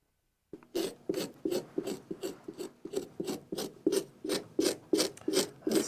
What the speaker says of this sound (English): That's the sound of the man scraping off the face.